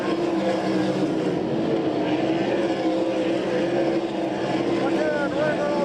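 Sprint cars roar around a dirt oval in an All Star Circuit of Champions race at Abbottstown, Pennsylvania, a dense continuous engine drone with shifting pitches as the cars pass, loud and unbroken throughout.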